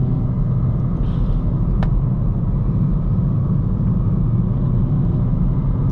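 A Hyundai i30N hatchback driven along narrow back roads, heard from inside as a steady engine and road rumble with low tyre noise, continuous and unbroken, with no voices.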